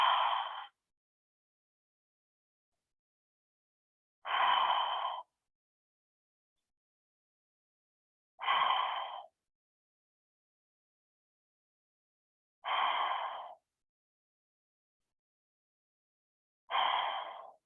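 Slow, deep yoga breaths during a vinyasa practice, five separate airy exhalations spaced about four seconds apart with silence between them, close and fairly soft.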